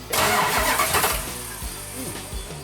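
A totaled GTX car engine cranks and catches via a remote starter in neutral, a dense burst of roaring turnover that settles into a rough, loud idle with a few lower pulses and some voices mixed in.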